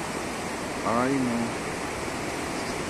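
The Suaza river at San Adolfo, Huila, floods after a 2021 avalanche, a loud, constant broadband roar of rushing water. A brief spoken exclamation rises over it midway.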